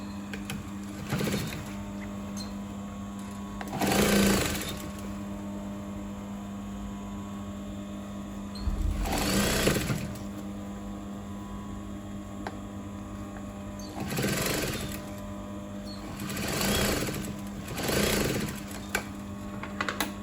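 A sewing machine stitches a pleated off-shoulder top in several separate bursts of a few seconds each, with a steady mains hum running beneath and quiet pauses between the runs.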